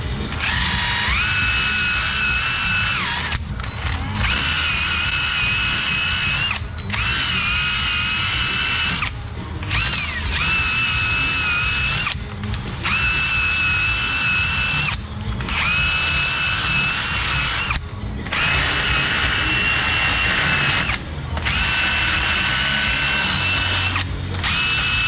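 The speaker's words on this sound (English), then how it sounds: "we'll hit that with a polisher just to make it nice and shiny" A power polisher buffs a brake rotor from an Infiniti G37 S, whirring in about eight steady, close bursts with a high whine and short pauses between them, with no talking.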